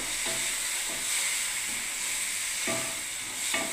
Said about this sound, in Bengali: এবার আমি সর্ষেটা ফেলে দিচ্ছি, সর্ষে পোস্ত বাটাটা